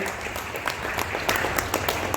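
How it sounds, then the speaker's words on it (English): A business conclave audience gives a short burst of steady, moderately loud applause, dense clapping from many hands filling the room for a couple of seconds. "A big round of applause to Rohit again"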